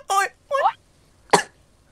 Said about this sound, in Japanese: ちょっと無理しない、咳込んでるんで無理しないほうが いい